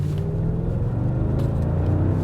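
A Mercedes-Benz CLS 55 AMG V8 gives a deep, steady rumble in low gear at modest revs, loud, close and continuous with no talking over it.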